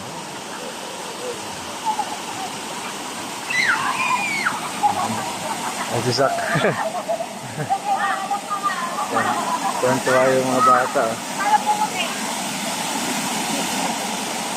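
Broadband water hiss like a running shower fills the clip, with children's voices and talk over it, fairly close.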